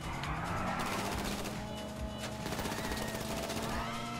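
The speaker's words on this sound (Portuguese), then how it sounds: "Tô dando tiro aqui pra trás só pra dizer que tô atirando" Bursts of gunfire ring out in GTA Online while a car drives, rapid shots crackling fairly faintly over engine noise in quick repeated volleys.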